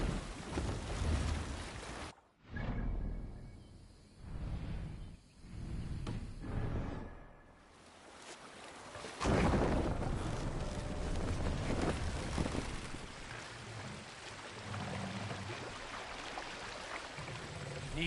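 Gusting wind on a Viking sailing ship at sea in Assassin's Creed Valhalla, quiet rushing airflow with surges and brief lulls, mixed with water wash and creaking, no voices.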